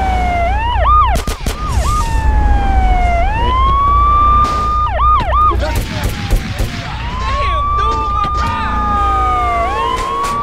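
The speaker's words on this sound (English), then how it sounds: "That's the GTA 3 police car" A GTA 3 police car siren, modded into GTA San Andreas, wails loudly in repeated rising and falling cycles. Short game noises and bumps break through between the wails.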